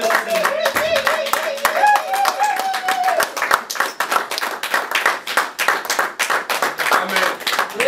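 A church congregation claps in fast rhythmic unison to acclaim the Lord, loud and close, with singing or voices running over the steady beat.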